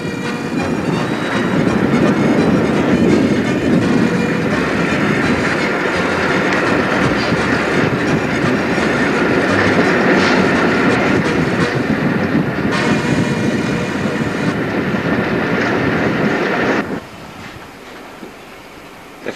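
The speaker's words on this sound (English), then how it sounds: "Show the length of our train." A long 1990 passenger train rumbles past on the tracks, a loud continuous roar with rhythmic wheel clatter that drops away abruptly near the end.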